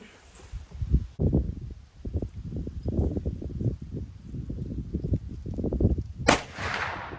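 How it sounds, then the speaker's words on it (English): Hunting rifle fired during a pre-season sight-in at a range; a single loud, sharp gunshot cracks out near the end, after a stretch of rustling and handling sounds. "Put our PPE on, our glasses and our earmuffs, and let's shoot this thing."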